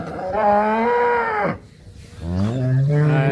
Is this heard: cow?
yes